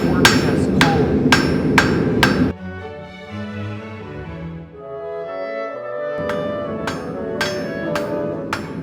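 A blacksmith's hammer forges a taper in spring steel with loud, sharp rhythmic strikes in two bursts, separated by a quieter pause with ringing and shop noise.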